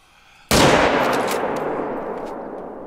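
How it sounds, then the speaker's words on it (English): A single loud rifle shot from a .300 rifle fired at a brindle bear in theHunter: Call of the Wild, a sharp crack followed by a long, slowly fading echo across open country. "This 300 is a great bear gun."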